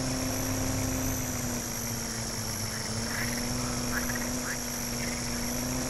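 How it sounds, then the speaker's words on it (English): Frogs croaking in the Farming Simulator video game during forest logging, a few brief croaks under a constant droning engine hum and tonal background noise. "Oh, there's some frogs."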